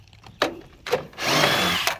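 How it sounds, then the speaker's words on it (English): A cordless drill fitted with an adapter and a half-inch socket spins off nuts holding a mini split compressor, giving a couple of short bursts and then a steady, close whirring run. "And my drill."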